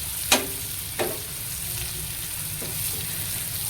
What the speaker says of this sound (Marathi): मिरच्या पण चांगल्या भाजलेल्या आहेत बघा।